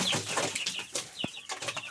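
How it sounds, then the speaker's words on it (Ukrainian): Chicks and a hen in a farmyard, with soft chirps and clucks in quick scattered bursts, fairly close and moderately loud, with no talk over them. "Курчата ось бігають."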